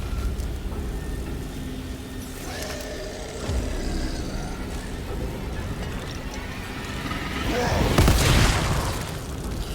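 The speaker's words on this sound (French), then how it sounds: "Pourquoi je tire 2 balles?" Gunfire and heavy booms in the survival horror game The Evil Within 2, a rumbling game soundscape with a few sharp hits and a louder burst near the end, no speech.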